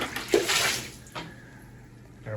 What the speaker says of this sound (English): I'm gonna slosh this floor, squeeze it off, suck it up, and get the soap residue off.